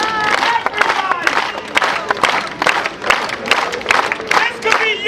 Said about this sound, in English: Everyone, for the kid! Clap! Everybody!